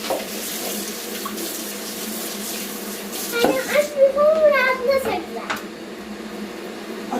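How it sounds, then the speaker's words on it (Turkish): Potato cooking water is poured into a kitchen sink, a brief splashing gush of running water midway through, loud and close, with a voice talking over the background. "Anne patates suyu dökeceğim."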